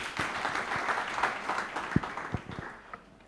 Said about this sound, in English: invite my boss, Professor Pauline Byachika, with a hand clap, please.